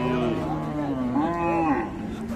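Cattle at a market moo in long, drawn-out calls from a Sahiwal-Sindhi cow and her calf, loud and close, with a steady low rumble of market noise underneath.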